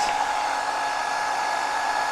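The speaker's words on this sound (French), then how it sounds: "si on passe au petit test, sèche-cheveux, mode 300 watts" A hair dryer runs at a 300-watt setting powered by a Bluetti Elite 30 V2 portable power station, giving a steady, close, loud airy whir with no talking.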